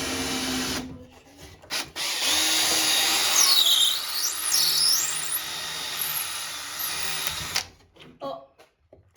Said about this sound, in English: So that means I'm gonna drill out my hole roughly right in here.